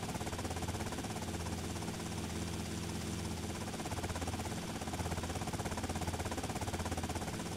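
A helicopter in a combat video game drones steadily with a dense, rumbling rotor and engine roar that fills the whole stretch without a break.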